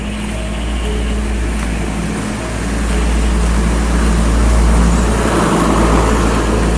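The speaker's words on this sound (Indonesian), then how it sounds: "Mobil Panther merah." A red Isuzu Panther car drives through a quiet village lane at two in the morning. Its low engine rumble swells as it draws near and passes, rising over a steady background hum.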